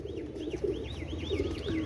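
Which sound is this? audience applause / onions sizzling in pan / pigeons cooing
pigeons cooing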